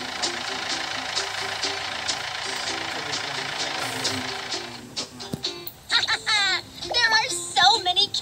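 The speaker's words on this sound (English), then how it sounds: "The tractor is leaving." A toy tractor's engine sound hums in a steady, buzzy drone for several seconds, then fades as it leaves, and voices start talking close by.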